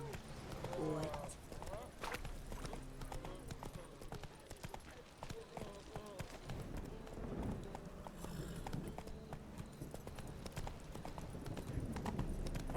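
Roach, the horse in Witcher 3, trotting through Novigrad with a steady clip-clop of hooves over game ambience, while someone talks over it.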